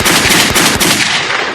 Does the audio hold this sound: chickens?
no